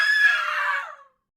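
A single sharp scream in an Urdu cartoon story for children, loud and high-pitched, lasting about a second before cutting off into silence.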